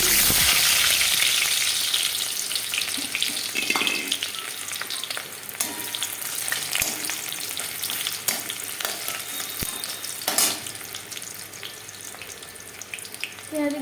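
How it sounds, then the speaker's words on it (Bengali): Onions sizzle steadily in hot oil in a kadai for an egg and fig curry, a dense, continuous crackling hiss with occasional louder stirring scrapes and pops, close and alone without voices. "তেল গরম হয়ে গেছে আমি পেঁয়াজ দিয়ে"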